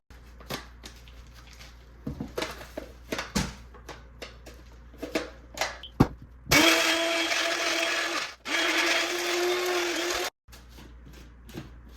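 A blender grinds ingredients for cielo dough, roaring loudly for about four seconds with a brief dip, after scattered clicks and handling knocks around the machine.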